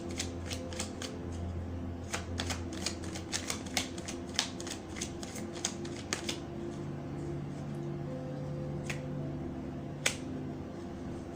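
Tarot cards being shuffled and drawn: a close, quick run of crisp riffling snaps, then a few sparser single flicks as cards are pulled, over a low hum with no talking.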